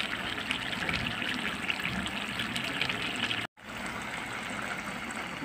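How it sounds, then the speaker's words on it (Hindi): Eggs being stirred into a curry (salan) in a cooking pan give a steady wet, liquid swishing and trickling that runs continuously, broken by one brief silent gap. "अब मैं करती हूँ इनको मिक्स।"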